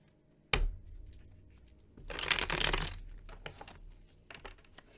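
Tarot cards are shuffled close up in a quiet room: a sharp tap, then a dense riffling rush, followed by scattered soft flicks and slides of the cards.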